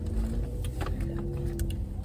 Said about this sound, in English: The car is moving now.